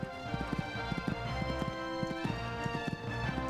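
Horse hooves gallop in a horse-riding video game, a steady, close, rhythmic clip-clop of repeated hoofbeat groups heard clearly throughout.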